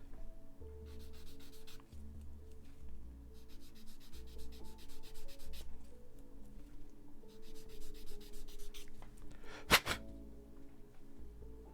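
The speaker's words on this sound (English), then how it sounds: "Yeah, that one needs the sanding too." Sandpaper rubbing on a plastic model kit part, a Frame Arms Girl figure, in close repeated back-and-forth strokes with short pauses between them and one sharp knock near the end. No one speaks.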